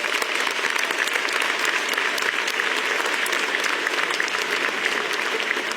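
A large audience at a Bitcoin conference breaks into sustained applause, thick continuous clapping from many hands at steady loudness across the whole stretch, with no voice standing out.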